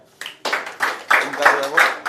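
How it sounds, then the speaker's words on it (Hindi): Students at a career institute session with Kashmir students clapping in loose, uneven bursts, several separate rounds of hand claps starting and stopping, fairly close and moderately loud. "तो मैं कहूँगा कि एक बार तालियां मार के जो है"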